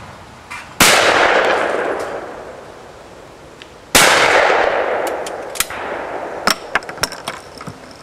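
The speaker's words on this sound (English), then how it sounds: "Watch as we shoot just a couple more clays." Two loud, sharp shotgun blasts from a Beretta over-and-under fired at clay targets outdoors, each with a long decaying echo, followed by lighter clicks and clinks as the gun is handled.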